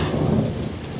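Thunderstorm with heavy rain and a deep rumble of thunder, a dense loud wash of rain with low booming underneath throughout the brief stretch.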